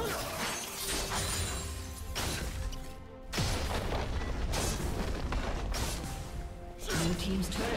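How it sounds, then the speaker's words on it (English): A turret being destroyed in the League of Legends video game: a loud shattering crash and booming impacts that fill the clip, with a sharp burst near the middle and more heavy crunching toward the end, under constant game effects. "Blue team's turret has been destroyed."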